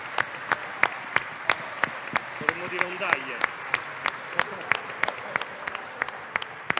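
Steady, evenly spaced handclaps from an audience applauding a band at an award ceremony ring out in a rhythmic beat, with a voice speaking briefly over them midway.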